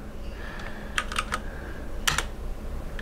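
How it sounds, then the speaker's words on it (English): Keys on a computer keyboard are tapped slowly with one hand while testing a Monocle AR device, sparse clusters of crisp clicks separated by pauses. "Typing with one hand, that's why this is so slow"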